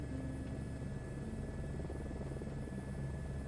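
An Airbus H125 helicopter lifts off with throttle increasing on a Yellowstone search-and-rescue mission. It gives a steady, even rotor and turbine drone, heard from inside and fairly faint, with no talk.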